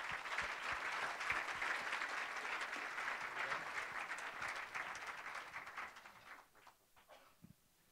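Audience at a child-protection fund event applauds its panel speakers with steady, dense clapping that fills the room for several seconds, then thins out and trails off into scattered claps near the end.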